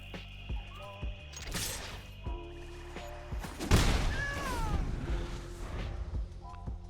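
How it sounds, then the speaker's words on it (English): A cat meows in Magic: The Gathering Arena, a short rising-and-falling cry near the middle, set among clicks, thuds and tonal game effects. "Oh, look at the little cat."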